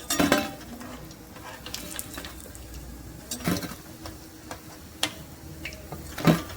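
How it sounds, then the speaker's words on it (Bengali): Paneer pakoras deep-frying in oil give a low, steady bubbling sizzle, with occasional metal clinks and scrapes of a ladle against the pan as pieces are lifted out, close up and without speech. "এখন এইটা প্রথমে ভেজে বার করছি"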